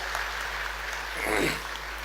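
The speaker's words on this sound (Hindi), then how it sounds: "जोरदार ताली बजा के स्वागत करो बेटियों का" Applause from an audience at a Ladli Laxmi celebration event welcoming the girls, a soft broad wash of clapping that swells briefly in the middle against a steady low hum, with no talk over it.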